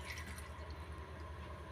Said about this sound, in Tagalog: Dito tayo kukuha ng tubig sa filter.